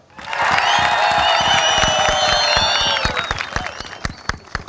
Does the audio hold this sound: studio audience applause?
yes